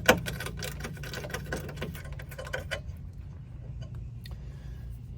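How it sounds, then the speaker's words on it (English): A small ratchet removes the running board nuts on a Jeep Wrangler, giving quick, close clicking bursts for about three seconds before fading into a quiet background. "So I'm just going to use a little ratchet"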